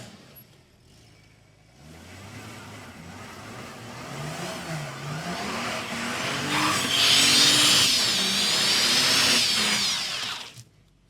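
A car accelerates hard on a clothesline walkway in a test skid, its engine revving up and tyres squealing loudly for several seconds before cutting off abruptly.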